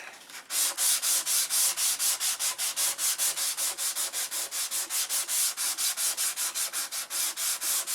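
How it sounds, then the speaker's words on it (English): Rhythmic sanding strokes on a control-line P51 B model plane rub away paint, roughly four strokes per second, close and steady for the whole span with no voices. "Put it on, sand it off."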